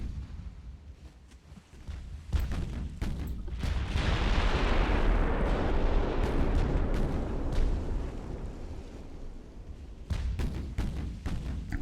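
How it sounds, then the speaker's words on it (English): Six-inch casemate guns on a warship in Ultimate Admiral: Dreadnoughts fire in heavy booming bursts, sharp reports leading into a long rumbling roar in the middle, then more scattered blasts toward the end. "Six-inch casemates starting to get some hits on the light cruiser now."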